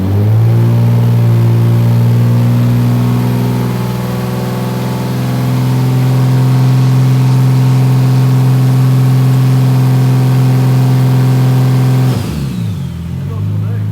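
A Toyota 1JZ-GTE engine in a Holden Torana revs hard and loud up close, holding a steady high drone for about twelve seconds before the note drops sharply and falls back.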